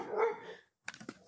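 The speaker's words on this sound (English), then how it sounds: "Apologize for the neighbor's dogs" Neighbor's dogs bark beside an offset smoker during a brisket cook, a cluster of sharp, fairly near barks arriving after a brief pause following louder background activity.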